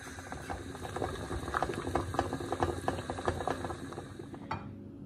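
A water bath bubbling at a steady boil beneath a container of melting wax and shea butter, with dense close patter of popping bubbles that cuts off abruptly near the end.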